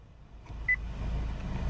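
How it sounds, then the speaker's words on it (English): A single short electronic beep from the voice command system of a 2014 Acura TSX Sport Wagon, heard once against the steady low hum of the car interior. "every single piece of data is another beep response sequence"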